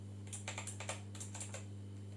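A typewriter-style computer keyboard clacks in a short burst of about a dozen distinct keystrokes, then falls quiet, close and crisp but low in level over a steady electrical hum.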